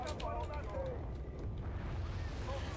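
An explosion rumbles in Battlefield: Bad Company 2, a heavy, muffled blast with a long low roar that stays under a man's speech.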